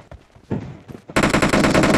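Continuous gunfire from a shoulder-carried gun in PUBG. Scattered, quieter shots come first, then a loud, sustained burst of rapid fire runs to the end at close range.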